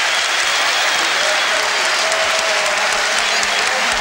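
Tottenham Hotspur football fans in a packed stadium applaud a goal, a dense, steady roar of clapping and crowd noise that fills the whole stretch without a break.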